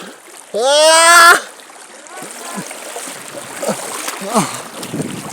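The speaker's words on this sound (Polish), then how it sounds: "Ale prąd jest bardzo silny." A strong river current rushes and splashes steadily close by, opening with a loud drawn-out vocal cry, while someone talks over the water noise.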